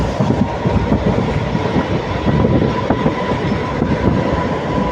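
MEMU passenger train between Karur and Tiruchirappalli running at speed, a steady loud rumble with rhythmic wheel clatter and rattling carriage noise heard from on board, with no talking.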